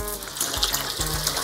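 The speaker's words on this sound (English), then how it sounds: "I just rinse them right with cold water" Cold tap water runs steadily over freshly boiled eggs in a kitchen sink, a continuous close splashing rush with a few brief knocks, no talking.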